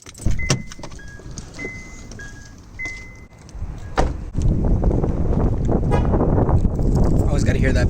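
Car lock chirps from a parked car: a few short, clear beeps in quick succession near the start, followed by a door thump and then steady outdoor rumble and shuffling.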